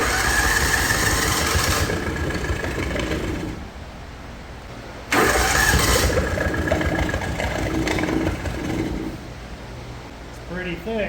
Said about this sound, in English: I want to get it fired up and pull it outside